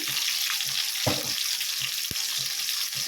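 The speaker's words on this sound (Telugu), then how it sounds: "పచ్చిమిర్చి ఒక రెండే వేస్తున్నాను ఎక్కువ లేవన్నమాట తాలింపుకి" Green chillies dropped into hot tempering oil, a dense continuous sizzle close by, with a few soft clinks and one short knock, no voices.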